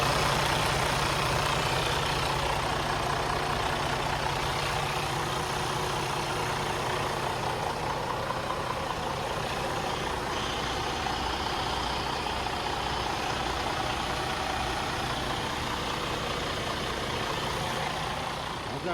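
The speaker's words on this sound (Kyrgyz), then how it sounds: "Азыр мен мотордун иштегенин көрсөтөйүн" A semi truck engine idles in the United States, a steady, loud, unbroken rumble with a low hum that holds evenly for the whole stretch, with no talk over it.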